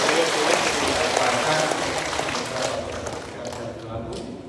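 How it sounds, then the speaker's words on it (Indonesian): Congregation at a Catholic college anniversary Mass in Pontianak applauding the bishop, a steady wash of clapping that starts strong and gradually fades out over several seconds. "tepuk tangan bagi kemurahan hati Bapak Uskup"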